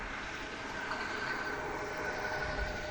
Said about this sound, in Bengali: ফলে ট্রেনটি নির্দিষ্ট লাইনে নিরাপদে প্রবেশ করে।